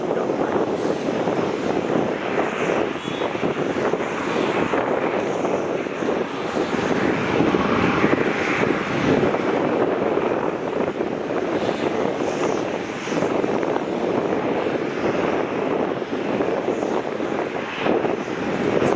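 A jet aircraft roars steadily at Melbourne Airport's T4 terminal, a loud continuous engine rumble close by that stays level for the whole stretch, with some wind buffeting the microphone and no voices.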